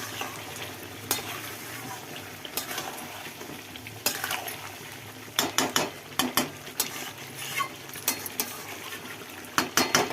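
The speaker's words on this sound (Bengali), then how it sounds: "দেখুন মাংসটা কষানো চলছে।" Meat being sautéed and stirred in a pan on a gas stove, with a steady sizzle and frequent sharp scrapes and clacks of a utensil against the pan, coming in irregular bursts and growing busier toward the end.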